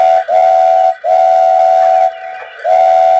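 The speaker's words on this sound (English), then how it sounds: "He's got some great little phrases, some whistle sounds." A Bachmann Donald DCC model steam locomotive's sound decoder gives three loud, steady steam-whistle blasts, the middle one longest, with short gaps between them and no voices.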